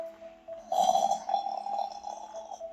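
A lion snores in a children's audio tale, a deep rumbling snore rising loud and drawn out after a quieter opening, heard alone without talk.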